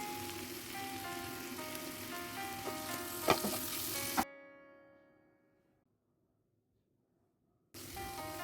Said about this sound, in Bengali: মশলাটাকে ভালোভাবে কষিয়ে নিতে হবে